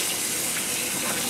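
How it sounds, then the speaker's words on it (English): Canned beans rinsed under tap water, a steady close gushing stream of water running without a break, no voices. "Use hot water, cold water, doesn't even matter. Rinse those beans off."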